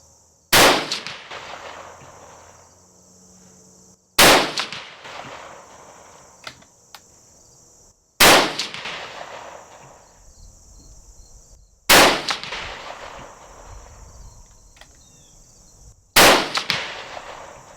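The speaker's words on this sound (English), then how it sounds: "I have 200 rounds here to fire form" Rifle shots fired to fire-form brass, five loud sharp reports evenly spaced about four seconds apart, each ringing out and decaying before the next, with no talk.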